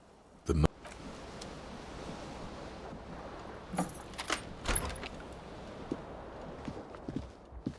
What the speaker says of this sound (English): You hear a jingle. Keys are clinking in the pocket.